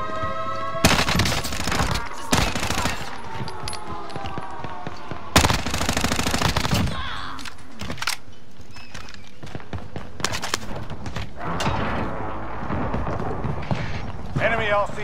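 Bursts of SMG fire in the video game Warzone, several loud rapid volleys separated by pauses, mixed with other game effects and voice callouts.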